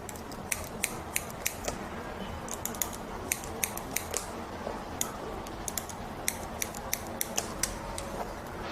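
Hairdressing scissors snip repeatedly through hair during a short-haircut cut on the back section, giving quiet, crisp irregular clicks in quick clusters over a soft, steady background.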